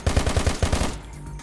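Gunfire in the video game Minecraft, a rapid burst of about eight sharp, punchy shots in quick succession, loud and close, stopping abruptly and leaving a brief low rumble.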